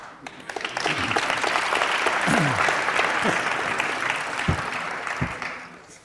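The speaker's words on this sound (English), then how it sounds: "You don't have to applaud, trust me." An audience claps steadily for several seconds, the applause swelling and then fading, with a few faint voices underneath.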